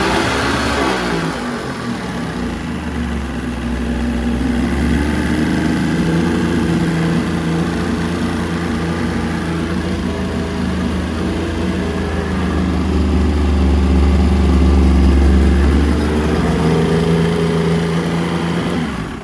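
Old Volvo Penta 3-cylinder outboard engine running as it starts to run out of fuel, a loud close steady drone with low rumble that swells and wavers toward the end, no talking.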